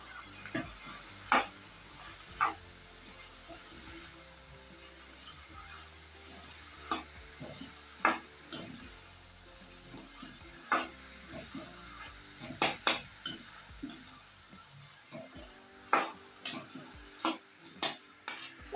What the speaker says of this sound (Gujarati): હળદર અને મીઠું આપણે હલાવી લઈશું ચમચાથી